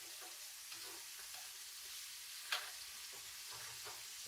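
Pork sizzles steadily in a hot pan, a continuous quiet frying hiss with one brief louder crackle, heard on its own without talk.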